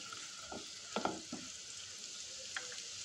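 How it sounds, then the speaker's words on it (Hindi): Cumin seeds and turmeric sizzle in hot oil in a pan for poha, with a steady soft frying hiss and a few scraping stirs of the spoon, close and fairly quiet. "फिर उसमें डाल जाएगा हमारा जीरा और हल्दी। मिक्स कर दीजिए इसको अच्छे से"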